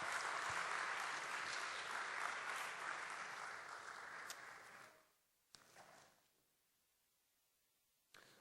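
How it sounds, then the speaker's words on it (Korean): A crowd at a student worship service claps steadily for several seconds, then the applause fades out, leaving near silence with a couple of brief knocks. "다시 한번 하나님 아버지께 영광의 박수 올려드리겠습니다."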